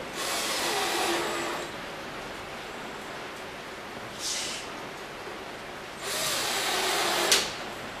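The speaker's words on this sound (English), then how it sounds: "And just put the screws in and we're good to go." A power tool drives screws to mount a rough-in cabinet, sounding as short bursts of high whirring at roughly one, four and six to seven seconds, separated by quieter room noise.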